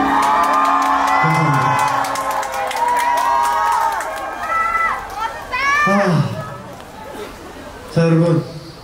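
A large crowd at an outdoor K-pop concert in the rain cheers, whoops and shouts loudly and continuously, with amplified voices from the stage rising over the roar.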